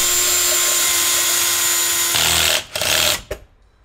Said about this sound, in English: I think I just need to try and drill out the rivets.